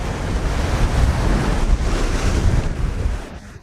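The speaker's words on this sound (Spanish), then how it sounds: "Estas son pequeñas rocas donde rompen las olas." Waves breaking against small rocks on the Mexican coast near a lighthouse in a continuous loud wash, with heavy wind buffeting the microphone, close and unbroken.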